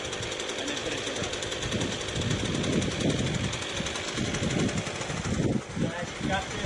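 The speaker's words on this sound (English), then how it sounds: "majority of weed eaters. You always prime it, put it into some form of choke, put your safety down, starts right up, and then put it to run." Gas weed eater engine running after being primed and choked, a rough, buzzing two-stroke drone close by with uneven revving, with someone talking over it.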